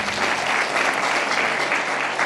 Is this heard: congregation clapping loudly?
yes